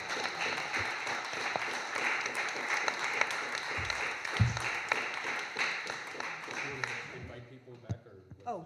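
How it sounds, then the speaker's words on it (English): An audience applauds the panelists at a public forum on democracy and voting, a dense, steady wash of clapping that fills the room for about seven seconds before thinning out, with a few voices murmuring as it fades. "So let's have a round of applause"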